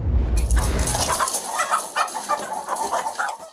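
Roosters cluck and squawk close by during a police bust of a cockfight in Albuquerque, with a burst of low rumbling handling noise at the start, then repeated agitated clucks and calls over background clatter.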